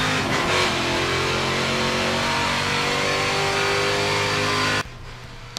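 A NASCAR race car accelerating around Mugello in a racing sim, a loud sustained engine roar with rising harmonic tones that cuts off abruptly near the end, leaving near quiet.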